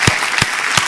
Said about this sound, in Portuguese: Vamos aplaudir a Jesus Cristo, que é maravilhoso.